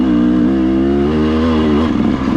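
A dirt bike engine revs loud and close during a wheelie, a steady droning roar that climbs slightly in pitch before roughening at the end.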